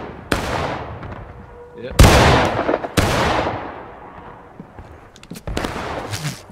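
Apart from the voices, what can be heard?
rifle volley fire in video game War of Rights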